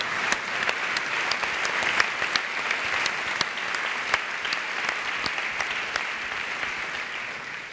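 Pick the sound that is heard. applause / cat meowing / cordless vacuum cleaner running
applause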